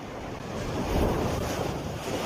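Ocean surf breaks and washes in steadily at a seaside fishing spot near a view deck in Basco, Batanes, a continuous broadband roar swelling in the middle, with wind buffeting the microphone and no talk.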